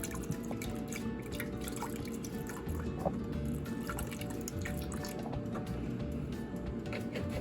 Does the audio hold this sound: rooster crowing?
no